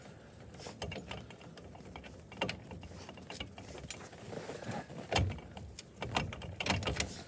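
A jack stand under an ice fishing house has its pin pulled and is twisted down, giving a run of sharp metallic clicks, ratchet-like ticks and clanks at close range, with no talk.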